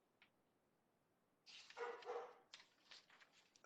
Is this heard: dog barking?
yes